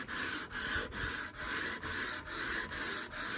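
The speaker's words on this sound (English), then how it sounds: "So I'm just going to give it a quick sand" Sandpaper rubbed back and forth over a level in a woodworking shop, giving a close, regular scratchy rasp with about eight even strokes, each separated by a brief pause, and no voices.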